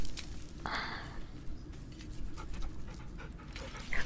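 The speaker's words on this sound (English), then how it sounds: "But first I have to pet my dog." A pet dog in Baldur's Gate 3 pants steadily while being petted in camp, soft rhythmic breaths heard close up over a low background hum, with a faint chime partway through.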